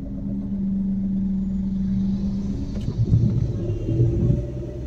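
Car engine during a driving lesson, idling low and steady, then rumbling and rising as the accelerator is held and the clutch released, with uneven surges toward the end.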